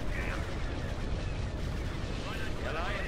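Continuous gunfire and artillery barrage in the Star Wars Empire at War space battle game, a dense, loud rumble of overlapping blasts with whining laser-like tones over it, steady throughout.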